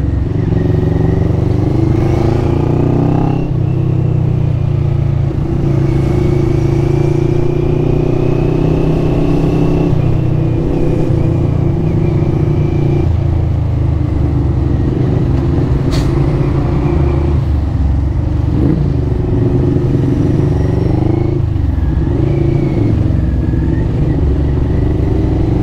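Riding a CFMoto NK400 motorcycle through heavy traffic on NLEX, a steady, loud engine drone mixes with nearby car and motorcycle engines and occasional revs, under constant wind rumble.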